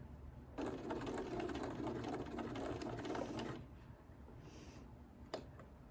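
A sewing machine stitches a seam in one close, steady burst of about three seconds, then stops, leaving faint handling clicks of fabric and thread.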